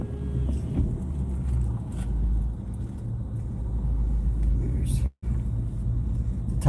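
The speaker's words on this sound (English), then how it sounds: "I gotta get the car off the launch here" A car idles and rumbles steadily at a lake boat launch ramp, pulling a crappie fishing boat clear, with a brief cut in the middle and a voice talking over the engine.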